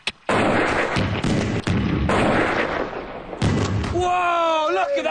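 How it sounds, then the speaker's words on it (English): Mortar charges fire outdoors, sending Motorola and Panasonic laptops high into the air, a run of loud, booming blasts and crackling bursts that keep going for several seconds, with voices shouting over the end. "The massive mortars blew the laptops at least 20 metres into the air."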